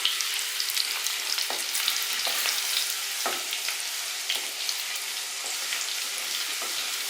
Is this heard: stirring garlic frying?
yes